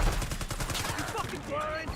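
Video-game gunfire crackles in steady overlapping bursts, a dense rapid fusillade with close, loud reports that run the whole moment, while faint voices murmur underneath.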